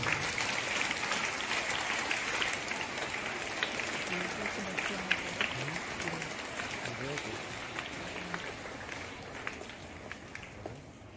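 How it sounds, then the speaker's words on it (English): A school prize ceremony at Kotak Salesian School, where a hall audience claps steadily for student competition champions. The applause is continuous and fairly soft, fading slightly toward the end, with faint voices underneath. "give them big applause"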